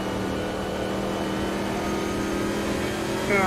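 V8 Montana race car with side exhaust on an oval in Automobilista 2, a steady loud engine roar reverberating off the wall, droning evenly with a brief higher whine at the end.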